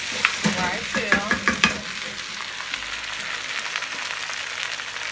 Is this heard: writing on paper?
no